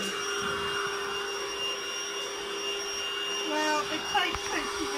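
A Lidl cordless Hoover vacuum cleaner runs on carpet with a steady, loud motor whine, changing slightly as it pushes across the pile, with brief bumps and knocks near the end.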